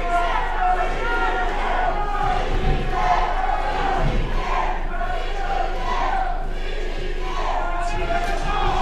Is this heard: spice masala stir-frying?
no